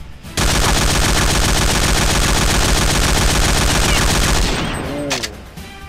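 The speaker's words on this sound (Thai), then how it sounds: "อันดับแรกผมจะยิงเป็นหมดแม็กก่อนนะครับ" A full magazine emptied in the shooter game Point Blank (CSPB): one long, loud, unbroken burst of rapid automatic gunfire that stops abruptly, followed by a few metallic reload clicks.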